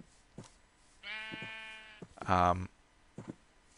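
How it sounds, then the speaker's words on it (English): A video game sheep bleats twice, a long wavering cry followed by a louder, harsher one, close and isolated with small clicks in between. "Come, sheep."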